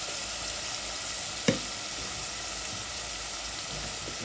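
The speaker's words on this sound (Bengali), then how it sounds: "মুসুরির ডাল, মুগ ডাল, এটার সাথে কষে নেব" Masoor and mung dal with turmeric sauté in a pan, a steady close sizzle with one sharp clink or stir stroke partway through, otherwise even and unbroken, without any voices.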